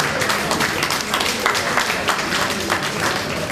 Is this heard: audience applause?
yes